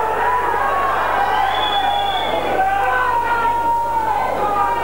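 Audience at the 1996 NABBA Universe bodybuilding contest, a steady crowd roar with shrill whistles sliding over it, continuous and fairly loud throughout.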